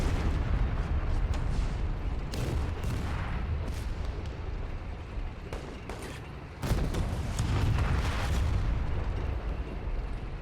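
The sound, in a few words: enemy artillery fire in a war video game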